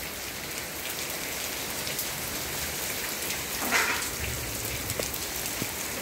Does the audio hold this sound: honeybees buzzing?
no